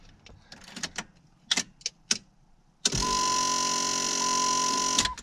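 A Dodge SRT-4 answers a start attempt with a few sharp, separate clicks, followed by a sudden steady electrical whine that holds a constant tone for about two seconds before cutting off.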